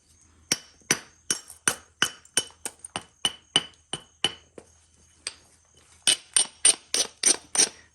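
Flintknapping a large blade of Flint River chert: about eighteen sharp, close stone-on-stone strikes knock off flakes in a steady, uneven rhythm, with a short pause before a faster final burst.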